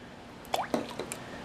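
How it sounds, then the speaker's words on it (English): Water splashes into a small bowl for a pork chop marinade in a few brief, close plops and drips, quiet and alone with no speech. "in a small bowl you're going to add the water"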